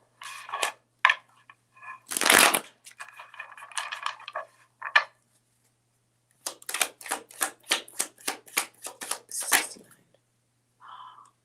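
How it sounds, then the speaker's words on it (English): Tarot cards being shuffled by hand, a series of crisp riffling and flicking bursts close up, with a pause midway and a softer flutter at the end; no talking. "I'm going to shuffle for you."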